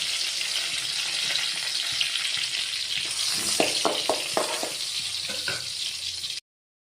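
Chillies frying in hot oil for a carrot thoran, a loud, dense, continuous sizzle up close, broken by a few quick stirring scrapes toward the end before cutting off abruptly.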